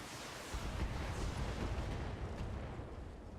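Weapons firing in the mech combat game Battletech, a dense rumbling barrage of blasts and booms running through the whole stretch at steady, fairly loud level with no talking.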